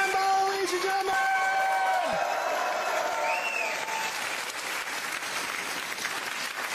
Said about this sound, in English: Cheer for Mr. Craig Campbell, ladies and gentlemen!